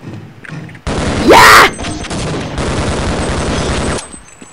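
An alien in the 1998 game Half-Life fires a weapon from its chest: a loud rising zap, then a sustained, rapid, crackling barrage that stops abruptly, with no voices.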